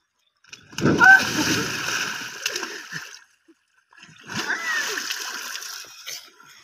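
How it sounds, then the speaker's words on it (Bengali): Water splashes loudly as someone bathes and swims in a village river, in two close bursts of splashing and sloshing separated by a brief quiet pause. "দেখো সাঁতার করবো আমি এবার"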